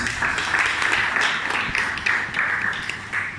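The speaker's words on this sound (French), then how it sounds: "je vous demande encore d'applaudir parce que c'est quelque chose" A seated audience claps together in steady, dense applause that runs evenly for a few seconds without any voices over it.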